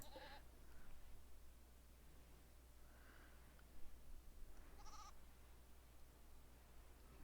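Goats bleat a few times in RimWorld, short nasal calls spaced apart over a steady low hum, fairly faint and without any talking.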